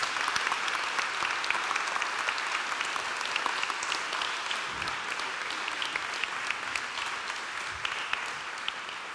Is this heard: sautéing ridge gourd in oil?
no